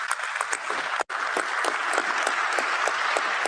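Steady applause from a crowd at a pre-World Cup FIFA gathering in Vancouver, dense clapping that holds throughout with a split-second break near the start.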